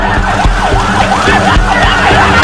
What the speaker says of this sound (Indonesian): 25 mobil pemadam kebakaran dikerahkan untuk memadamkan api.